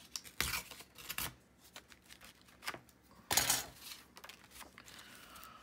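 A junk mail envelope is torn open by hand in a few quick, crisp rips, the loudest burst coming near the end, with faint paper rustling between the tears.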